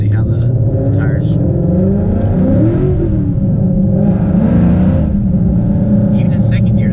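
Car on summer tires pulling out from a stop sign in first gear, engine note rising steadily and close under continuous talking throughout, with a low rumble and brief swells of road noise.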